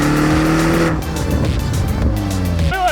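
Range Rover Sport SV engine roars loudly as the car drives hard, with pitch rising and dropping through gear changes and a brief tire squeal.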